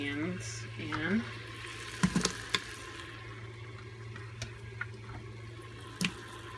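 A little water pours into a pot holding beef for BBQ pulled beef, a faint splash and trickle with a few light clinks against a low background hum, with brief talking near the start.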